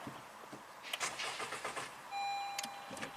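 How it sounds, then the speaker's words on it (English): A 2019 Honda Civic with a fault cranks briefly, a short uneven whir of the starter with scattered clicks and a faint electronic tone, heard close and quiet with no talk. "It cranks just for a little bit."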